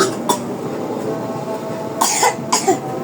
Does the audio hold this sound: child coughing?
yes